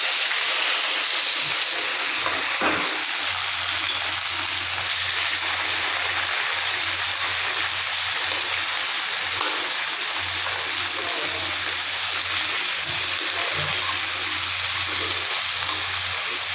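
Cumin seeds, curry leaves and chopped onion sizzle in hot oil, a loud, steady frying hiss that carries on unbroken throughout.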